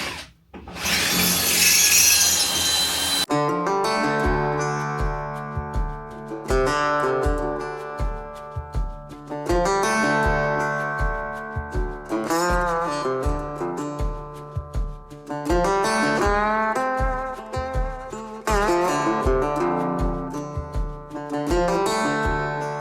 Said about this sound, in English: So we've drilled out all the rivets.